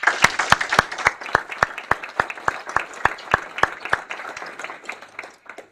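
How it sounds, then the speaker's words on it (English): Audience applauds an inductee at a sports hall of fame induction ceremony: a burst of clapping that thins into a smaller group, with a few loud, evenly spaced claps near the front, fading out over about six seconds. "So how about a round of applause for Tim?"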